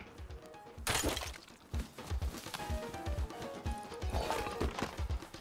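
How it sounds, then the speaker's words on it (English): Rhythmic hoof clip-clops from a horse in a video game, steady and fairly close, with a sharp crash near the start and ambient game noise. "There's a horse over at the recycler."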